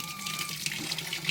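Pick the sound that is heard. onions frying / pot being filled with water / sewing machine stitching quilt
pot being filled with water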